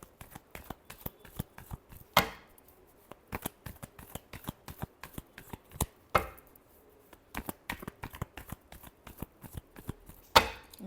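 Tarot cards being shuffled close up, a rapid run of crisp riffling slaps with three louder sharp snaps at irregular intervals, alone without talk.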